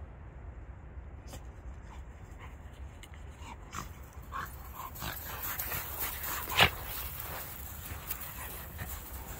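Dogs whimper, pant and give a short yip indoors in dim light, fairly faint and close, with someone briefly speaking in the background.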